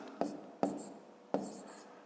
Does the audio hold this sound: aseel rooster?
no